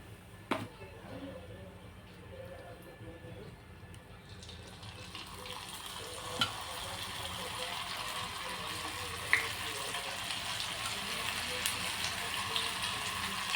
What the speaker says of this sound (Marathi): सर्व आपल्याला अशाच पद्धतीने तळून घ्यायच्यात